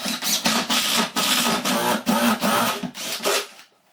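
A drill bores a pilot hole through a cabinet bottom while a range hood is prepared for installation: a close, steady whirring broken into repeated surging bursts that cut off near the end.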